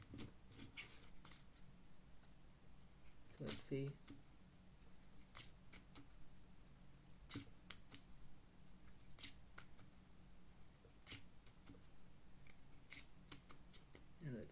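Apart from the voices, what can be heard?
shuffling playing cards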